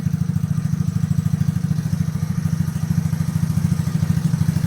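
A 320cc motorcycle engine, converted from a single-piston 160 to a twin, idles steadily nearby with a smooth, even low-pitched thrum and a fine rapid pulse, running alone without any talk.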